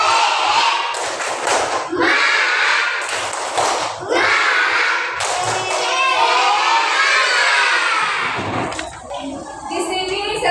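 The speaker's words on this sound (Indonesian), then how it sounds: "mari kita tepuk semangat dulu" A primary school class of fourth-graders does the 'tepuk semangat' rhythmic clapping chant, loud bursts of unison clapping mixed with children's shouted chanting filling the room, ending in a sharp final clap.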